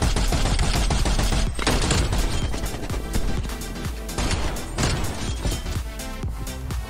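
Rapid, loud gunfire from a DMR marksman rifle in the video game Black Ops Cold War, heard as dense repeated shots with sharp cracks and no talk, ending in a headshot.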